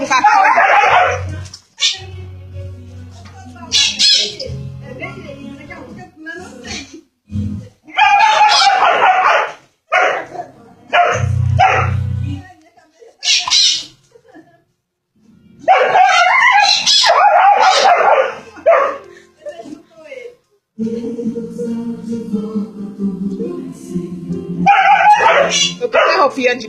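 A dog barks, yelps and whimpers in loud, frantic bursts while fighting a rooster, with short gaps between the outbursts. People talk over the commotion.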